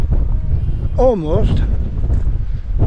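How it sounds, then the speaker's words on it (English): Wind buffets the microphone on the hilltop path up Jacob's Ladder to Kinder Scout near Edale, a loud, steady low rumble under a man's brief speech, with a short whistling burst near the middle. "It's a bit windy"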